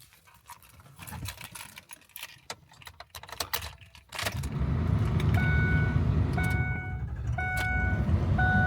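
A 2004 Ford F350 Super Duty with a 6.0L turbo diesel starts after some key jangling and clicks, then settles into a steady, loud diesel idle with repeated electronic chimes over it.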